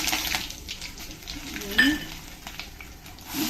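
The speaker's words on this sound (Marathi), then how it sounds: "राई जिरं टाकूया प्रथम, थोडे, आणि थोडं हिंग टाकूया, आणि लगेच कढीपत्ता" Mustard seeds, cumin, asafoetida and curry leaves sizzling in hot oil in a kadhai, a continuous crackling hiss with a brief stirring clatter, close and moderately loud.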